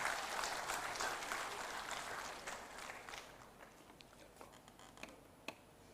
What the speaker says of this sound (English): Let's give a big round of applause for this momentous occasion.